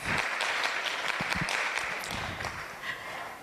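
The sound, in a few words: applause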